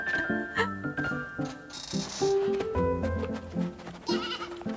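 Young goats bleat in the video game Blanc, several short, high, wavering cries in quick succession. They sound fairly close over soft background game music.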